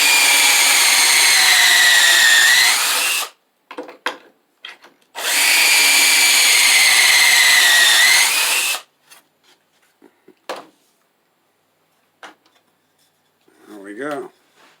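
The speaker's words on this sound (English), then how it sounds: "Decided to use pocket screws to hold this together." A power drill drives pocket screws into wood in two long whining bursts that rise in pitch as the screws seat, loud and close, followed by clunks of handling and a brief voice.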